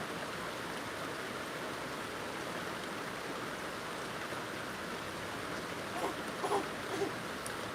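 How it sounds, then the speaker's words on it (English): Rain falling as a steady broadband hiss throughout, with a few faint bumps and clicks near the end and no talk over it. "here comes the rain"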